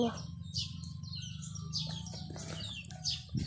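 A pet bird called Burga gives repeated short chirps and tweets at close range over a low background hum, with a brief thud near the end.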